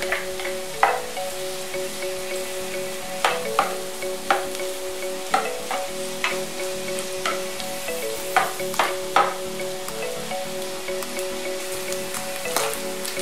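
Ginger frying in a hot pan with garlic and onion for Bicol Express, a loud continuous sizzle punctuated by frequent sharp scraping and tapping of a utensil stirring against the pan.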